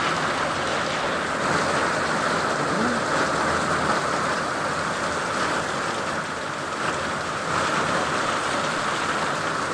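Heavy rain falls at night in a constant broadband wash, steady and fairly loud, with a brief faint voice-like chirp partway through.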